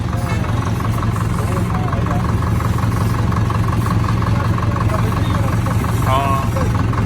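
A tractor engine runs steadily with a low, throbbing idle-like rumble throughout, while people talk over it.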